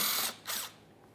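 A power tool spinning 8mm mounting bolts while replacing the front left CV axle on a 2014-2018 Mazda 3, two short whirring bursts close by with no talking.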